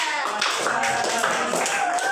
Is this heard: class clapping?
yes